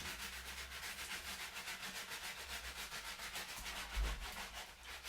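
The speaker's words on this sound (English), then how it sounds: "am I scrubbing too hard?" Steady, rhythmic scrubbing of skin in a bathtub, around the knuckles and joints, a close, fast back-and-forth rubbing that repeats evenly without pause.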